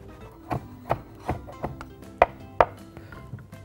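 A knife chops on a cutting board while seeds are being removed, a series of sharp, irregular close knocks roughly every half second with light scraping between them.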